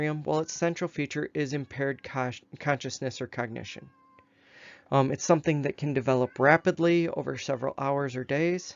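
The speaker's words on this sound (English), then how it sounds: "Sorry about the cat meowing in the background." A cat meows faintly in the background behind a person speaking continuously, the cries mostly buried under the voice and clearest during a short gap in the talk.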